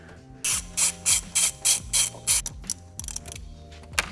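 A ratchet backing out M10 bolts on an Audi 4.0T engine, about eight loud, close bursts of rapid clicking in an even rhythm, then a few quieter scattered clicks.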